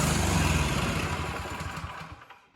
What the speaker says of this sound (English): right there, it wouldn't stay running on the choke